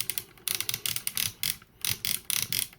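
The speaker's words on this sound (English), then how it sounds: "this side has a soft, less clicky ratchet" Ratchet joint on a 2010 Hunt for the Decepticons Leader Class Starscream Transformers toy being worked, rapid runs of close, crisp mechanical clicks in quick bursts with short gaps, no speech.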